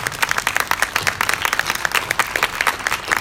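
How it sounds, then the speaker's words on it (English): Audience in a panel room at VidCon gives a closing round of applause, dense, steady clapping from a moderate crowd sustained throughout with no voices on top. "please help me join giving them a last round of applause in the room"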